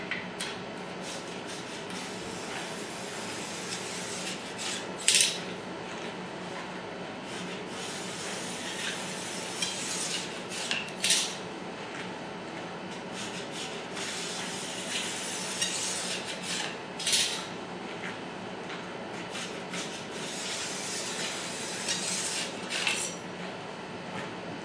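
A file pulls along a ski's base edge in repeated scraping strokes, with a few sharper metallic clinks and rasps standing out over a steady low hum, close and moderately quiet.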